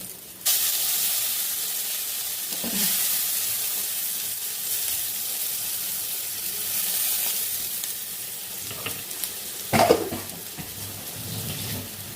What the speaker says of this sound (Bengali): এবার রসুনটাকে একটু ভাজা ভাজা করবো